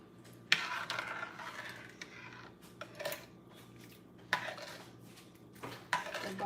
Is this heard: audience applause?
no